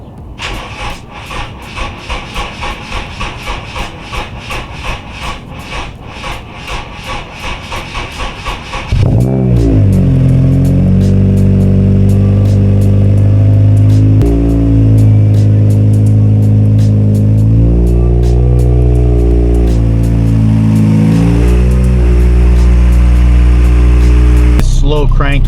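A car engine on a project car with a weak battery cranks slowly in rapid rhythmic pulses for about nine seconds, then catches and settles into a loud, steady idle, close by, with some wavering in pitch as it warms up.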